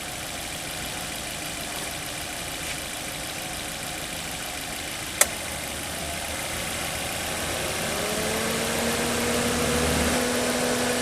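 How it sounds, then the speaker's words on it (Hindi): A car engine idles steadily with a constant hum. A single sharp click as the air conditioning switches on cuts in midway, and the drone grows slightly louder and deeper toward the end as the engine takes the load. "इंजन की वॉल्यूम बढ़ रही है क्योंकि इंजन को ज़्यादा पावर जनरेट करनी पड़ रही है"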